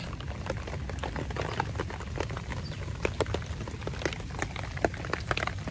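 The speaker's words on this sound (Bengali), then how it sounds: "এখানে বৃষ্টি শুরু হয়ে গেছে খুব।" Heavy monsoon rain falls beside a village pond, a steady broadband patter with scattered sharper drops striking nearby surfaces, continuous and fairly close throughout.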